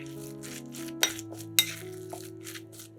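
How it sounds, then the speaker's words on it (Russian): Tableware clinking as egg white, grated carrot, fish and about two spoonfuls of mayonnaise are stirred together in a bowl for sandwich filling; a few sharp metallic taps stand out over soft scraping, close and moderately quiet. "Все перемешиваем."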